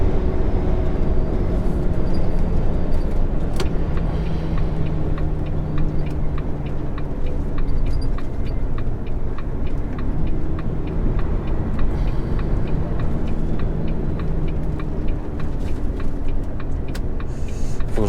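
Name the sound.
truck noise while driving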